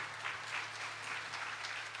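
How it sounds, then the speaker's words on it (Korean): Applause from a church youth congregation during a Sunday worship service, a soft, continuous patter of many hands, fairly distant and even throughout with gentle swells, and no voices over it. "여러분, 하나님께 영광의 박수 한번 올려드렸으면 좋겠습니다."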